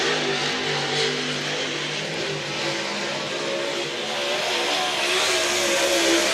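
Race cars in a qualifying session at Whynot Motorsports Park roar steadily in a loud, continuous engine drone with rising and falling revs, close to the microphone and without speech.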